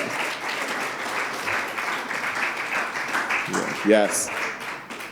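People at an art exhibit gathering on healing from anti-Indigenous racism and Islamophobia clap for an artist called up front, a lively continuous round of applause with a voice briefly speaking over it near the end.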